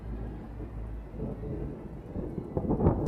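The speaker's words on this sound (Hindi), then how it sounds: "तेज बारिश हो रही थी" Low rolling thunder rumbles under a steady wash of rain, building louder toward the end with a sharper crack.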